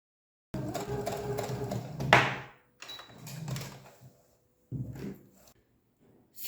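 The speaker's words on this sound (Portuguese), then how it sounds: "vamos lá na máquina e vamos passar uma costura de segurança em toda essa borda" A domestic sewing machine runs a safety seam along the edge of fabric for a charger and earphone holder, whirring in several short bursts separated by pauses, close and moderately loud.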